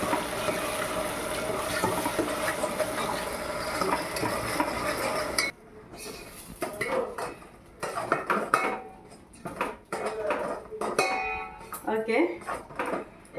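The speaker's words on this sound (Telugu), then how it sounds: "ఇప్పుడు అందులో వేసేసి బాగా వేయించేద్దాం" Steamed banana paste is fried in a pan with jaggery and ghee, a steady sizzle with a spoon scraping and clinking against the metal pan at close range, and a voice talking over the cooking later on.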